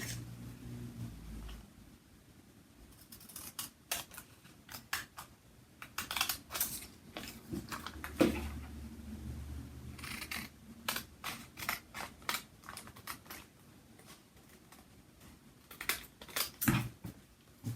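Scissors snip through t-shirt transfer paper in a quiet room, trimming close around the ears and head of a printed design with bursts of short, crisp cuts separated by brief pauses.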